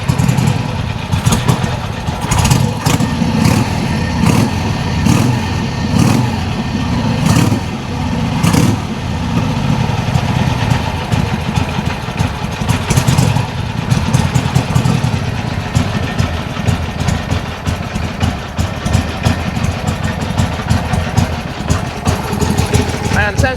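A Harley-Davidson Sportster motorcycle, newly fitted with copper brake lines, runs for the first time, its engine idling loudly and steadily close by with a throbbing rumble and small throttle blips throughout.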